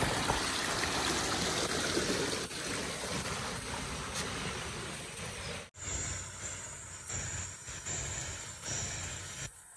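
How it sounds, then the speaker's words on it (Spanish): A river and waterfall near a cave path in Veracruz, Mexico, a steady broadband rush of flowing water that stays constant throughout, with a brief dip partway through. "la cascada."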